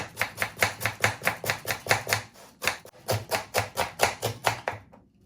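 A knife slices onions thinly on a board, a quick even run of sharp taps with a brief pause midway before the rhythmic chopping resumes, close and clear.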